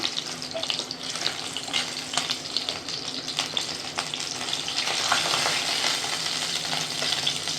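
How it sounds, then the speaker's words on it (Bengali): Pieces of fish fry in hot oil in a pan, a steady, fairly close sizzle with soft crackle that swells slightly toward the end, no voices over it. "এখন মাছগুলো দুদিকেই ভাজা হয়ে গেল"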